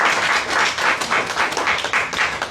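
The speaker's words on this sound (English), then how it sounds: "I think they deserve a round of applause for dismissing these charges." Applause at a tense public meeting in Trinidad, Texas: a short burst of brisk, fairly loud clapping from a room of people, alone without speech.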